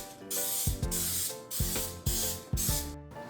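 Repeated bursts of cooking spray hiss close by onto a solid baking pan, about five sharp pumps in a steady rhythm, each a rushing hiss.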